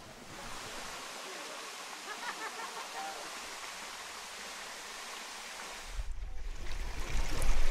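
A hot fumarole pool at the São Miguel hot springs, at about 60 to 100 degrees Celsius, bubbling and hissing in a steady broad rush, with a deeper rumble swelling near the end.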